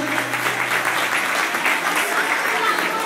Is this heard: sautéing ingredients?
no